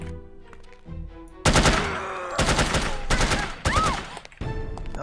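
Bursts of gunfire aimed at the player in the spy shooter No One Lives Forever, loud and close, coming in several rapid volleys separated by brief pauses over game music.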